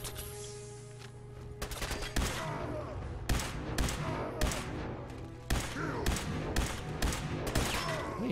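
Video game gunfire crackles in a string of sharp, close shots and short bursts spaced irregularly, each followed by a brief rumble, over a low steady hum.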